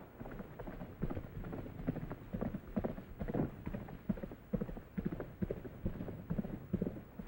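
Hooves of Trigger, a horse on the range, clip-clop in a steady rhythm of sharp repeated strikes, close and fairly loud, with no talk over them.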